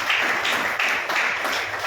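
A church congregation claps together briefly, a quick burst of loud, rhythmic hand claps with a few pulses lasting under two seconds.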